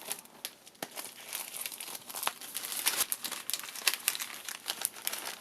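Plastic Easter bags folded in half and in thirds, giving a close, continuous crinkling and rustling with sharp little crackles throughout, fairly soft and with no voices.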